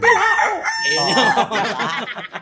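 A loud rooster crows close by, a long drawn-out call followed by clucking and more crowing, with no talk over it.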